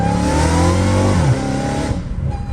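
A Dodge Challenger Hellcat Redeye revs hard from inside the car, its engine climbing with a loud supercharger whine before dropping off and easing down.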